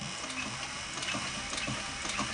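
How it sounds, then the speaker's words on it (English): A machine stitches through an inlaid beaded belt in quick, steady mechanical ticking and whirring, close and continuous for a couple of seconds with no voices. "So I'm gonna go ahead and sew this real quick."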